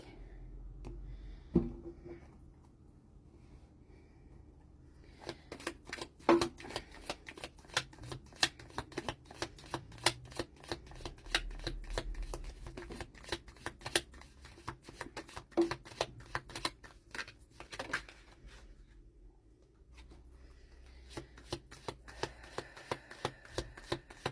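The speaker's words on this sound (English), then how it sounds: "Just split that deck." A deck of tarot cards is split and shuffled by hand close up, producing many crisp riffling clicks and flutters in uneven bursts across a quiet background, with only sparse sound at the start.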